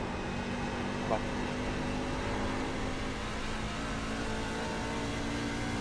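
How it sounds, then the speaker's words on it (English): Race car engine in the iRacing sim during a C-Open race at Rockingham, a steady loud drone and whir filling the whole stretch with no clear revving changes. "The darn engine's too loud."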